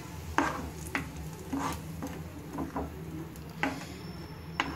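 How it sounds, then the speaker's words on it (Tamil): Tamarind water seasoned with salt and chili powder bubbles and sizzles in a pan for a pirandai thokku, with scattered soft pops and stirring scrapes over a steady low simmer, close and moderately quiet. "உப்பும் காரப்பொடியும் போட்டு நல்லா கொதிக்க விடணும்."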